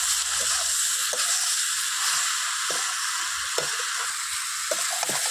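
Spiced food with turmeric and salt being stirred in a pan over a wood fire, a steady sizzling hiss with scattered scraping taps of the utensil.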